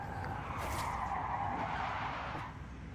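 A car's handbrake skid in the racing game Forza Horizon 5, a steady tire-scrubbing hiss over engine drone that holds for nearly three seconds and eases slightly at the end.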